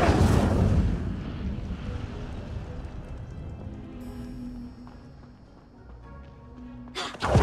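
An Incendio fire spell cast in Hogwarts Legacy, a loud whooshing burst at the start that fades into a low rumble, followed by thin ringing tones and a sharp swell at the end.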